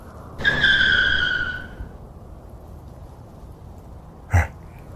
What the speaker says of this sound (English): both him and T hit their brakes and skid to a stop